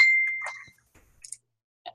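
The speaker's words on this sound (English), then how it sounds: "And my phone is dinging like crazy." Phone notification chime, a single clear ding ringing out and decaying, followed by a few faint, brief electronic blips in a quiet room.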